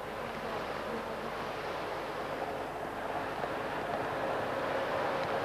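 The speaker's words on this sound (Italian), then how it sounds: "c'è un vento freddissimo" Cold wind roars across the Monte Bondone summit during a Giro d'Italia mountain stage, a steady broadband rush with gusty buffeting on the microphone, loud and continuous with no talk.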